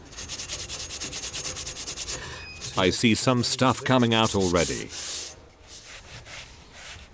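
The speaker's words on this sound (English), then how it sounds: "We use some sanding pad or sanding fleece to clean the contact surface" Rhythmic scrubbing of a sanding pad rubbed back and forth over the metal contact surface of a wheel balancer, close up, with someone speaking briefly over it.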